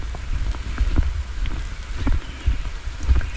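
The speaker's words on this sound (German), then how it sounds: "Und das regnet und regnet und regnet." Steady rain falling in dense forest near Alexandra Falls in Black River Gorges National Park, Mauritius, a continuous soft patter with scattered drips and faint wind, no talking.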